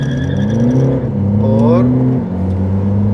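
A Mercedes A200 in sports mode and a Honda Accord accelerate hard in a drag race, with loud close engine whine climbing in pitch through a gear change while someone talks over it.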